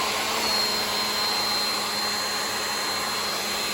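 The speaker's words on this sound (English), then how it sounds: "I'm blow drying." A hair dryer blows steadily and loudly, heating the glue behind a wall mirror to loosen it, a constant close whoosh with no talk.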